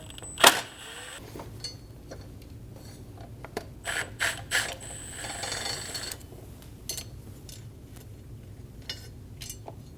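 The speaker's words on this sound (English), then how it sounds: "Using a T15 bit, remove the 2 screws for the fuel rail." On a 2012–2022 Volkswagen Passat engine, a ratchet with a T15 bit backs out the fuel rail screws: sharp close clicks and ratcheting bursts separated by quiet pauses, with no speech.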